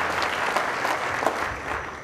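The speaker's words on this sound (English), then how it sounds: "So an applause to John" Audience applause at a Nokia cocktail event, steady dense clapping from a crowd throughout, moderately loud with no talk over it.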